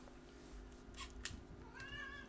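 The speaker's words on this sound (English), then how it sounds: "And that figures there's my cat." A house cat meows nearby, a short rising cry followed by a longer wavering meow near the end, faint against a quiet indoor background hum.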